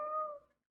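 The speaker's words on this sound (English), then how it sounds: "stop your crying, kittens" A single kitten gives a short, clear, high meow that fades out quickly, alone and close.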